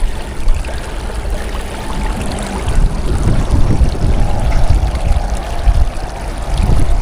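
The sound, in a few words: strong water current flowing in tunnel at low tide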